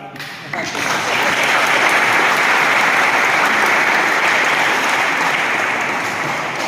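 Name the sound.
loud applause at a sports day felicitation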